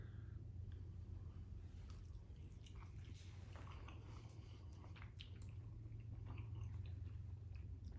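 Someone biting into and chewing Cajun chicken wings with remoulade sauce, soft wet squishy mastication close up over a low steady hum, no talking.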